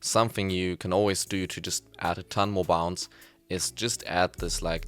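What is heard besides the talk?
No everyday noises stand out.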